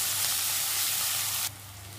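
Onions salted in a pan for a prawn curry sauté with a dense, close sizzle that drops suddenly to a softer hiss partway through, with no talking.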